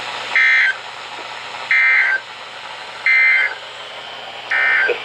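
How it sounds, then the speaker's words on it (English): A National Weather Service weather radio warning alarm tone sounds in four short, loud, evenly spaced bursts about 1.4 seconds apart, alone over a faint hum. "This ends the test of the National Weather Service weather radio warning alarm."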